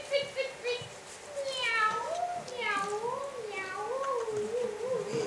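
On a theatre stage an actor's voice imitates a cat, drawing out a series of wavering, rising and falling meows, fairly close and moderately loud, with faint stage noise beneath.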